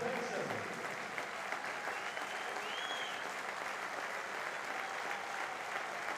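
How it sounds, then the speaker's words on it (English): Home football crowd at a Port Vale trophy match applauding a substituted player, broad steady applause spread across the stadium, heard at a distance, with no single voice standing out. "who gets a applause from the home crowd"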